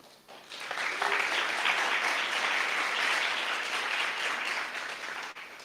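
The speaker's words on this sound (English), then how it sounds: "Big applause again." An audience at a startup pitching competition breaks into sustained applause, a dense crowd of clapping hands that swells quickly and holds steady for several seconds before tapering slightly.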